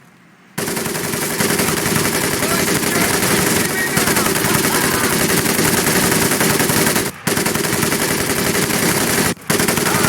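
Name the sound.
gunfire from Medal of Honor Pacific Assault video game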